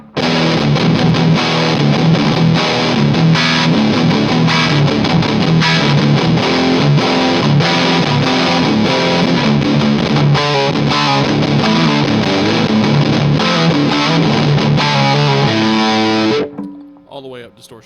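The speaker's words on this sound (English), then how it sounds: "3 o'clock on the distortion" An electric guitar plays through a Mooer Black Secret distortion pedal with the distortion knob at three o'clock, a loud, saturated, sustained riff that runs continuously for about sixteen seconds before cutting off and ringing out.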